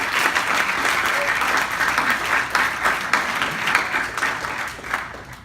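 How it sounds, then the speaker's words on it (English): A banquet audience at a school volleyball team dinner gives a big round of applause for the players' parents, steady full-room clapping that stays loud and even throughout with no speech over it. "I would ask that you give your parents a big round of applause"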